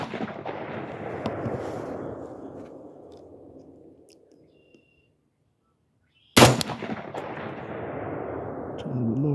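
A single sharp, loud AR-15 rifle shot cracks outdoors midway, fired at a 4-inch clay disk 200 yards away, after a stretch of wind noise and quiet, then ringing and trailing into ambient wind.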